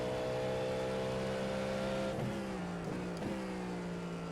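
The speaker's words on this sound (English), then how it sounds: "We're just thoroughly enjoying some V8 noises right now." A V8 race car engine in the iRacing sim holds a loud, steady high-revving howl, then drops through a few quick downshift blips as it slows, with no voices over it.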